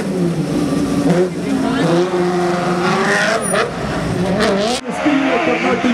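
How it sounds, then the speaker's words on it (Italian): Motocross bikes start a race heat at the Malpensa crossodrome in the Italian CIVF championship, engines revving high and loud with rising whine, while a commentator talks over them through the PA. "E parte Stefano Pavesi col numero 29"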